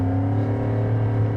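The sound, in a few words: car accelerating on a test track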